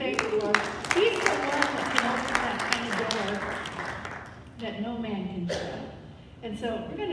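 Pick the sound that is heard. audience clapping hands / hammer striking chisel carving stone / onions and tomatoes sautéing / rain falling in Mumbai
audience clapping hands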